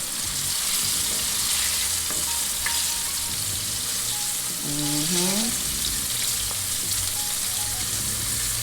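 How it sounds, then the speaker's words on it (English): Cube steak sizzles steadily in a hot pan, a constant crackling hiss with occasional clinks and scraping, and a brief voice-like tone midway. "And it's frying really good."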